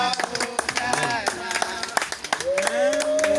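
A church congregation at a baptism in Toulouse claps rhythmically in praise, steady close claps running under singing and spoken voices.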